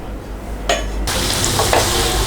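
Chicken that has already been fried goes into the sauce in a pan for chilli chicken and gets stirred, giving a loud continuous sizzle with a scrape of the spoon partway through.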